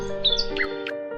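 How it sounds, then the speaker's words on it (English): Songbirds singing in spring: a few quick, high chirps and short whistled notes close by over a steady hum. "Birds start singing sweet songs."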